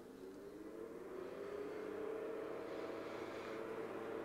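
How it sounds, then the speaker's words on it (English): A Tektronix TM5006 power mainframe's cooling fan runs with a steady, even whir and low hum that holds constant throughout, fairly quiet and close. "apologize about the fan noise."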